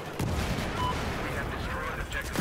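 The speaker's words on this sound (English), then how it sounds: "These guys are just throwing grenades." Grenade blasts and gunfire in Battlefield 4 multiplayer on PS4, a dense, continuous rumble of shots and explosions running through the whole stretch, with a player talking over it.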